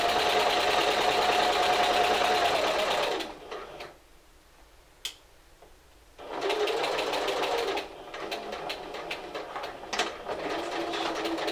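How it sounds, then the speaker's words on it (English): A sewing machine back stitches a 5/8 inch seam in fleece, with a loud, steady mechanical whirr for about three seconds, a quiet pause, then a second long run of rapid stitching. "We're going to back stitch and stitch all the way to the end."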